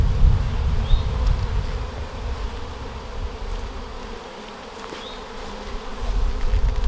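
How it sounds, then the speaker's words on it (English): Honey bees swarm around an open new hive during an inspection, a dense, continuous buzzing hum close by with some breathy blowing noise and no talk. "Kind of blowing the bees away here on the bottom"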